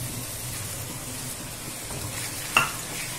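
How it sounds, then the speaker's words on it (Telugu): Tomato pieces go into a capsicum curry that is sizzling and being stirred in the pan, a steady close frying hiss with a brief clatter near the end. "ఇప్పుడు దీంట్లో టమాటా ముక్కలు యాడ్ చేద్దాము"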